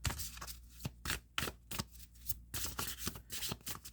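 Astrology cards being shuffled by hand, a rapid run of close, crisp riffling flutters and slaps repeating in quick bursts, moderately loud with no voices.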